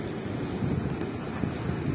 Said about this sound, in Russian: Волны бывают довольно сильные, разбиваются о камни.